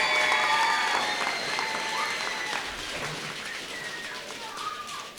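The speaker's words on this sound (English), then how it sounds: "That's worth applauding." Applause from a stadium-event crowd, a steady wash of clapping held throughout, fairly loud and close, with some voices mixed in.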